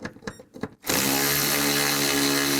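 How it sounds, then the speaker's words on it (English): A power tool spins up and runs steadily, backing out bolts with a 10mm socket on a 2000-04 GMC Yukon radiator fan area, after a few short clicks and knocks, close and loud. "I'm going to take these 2 bolts out up top"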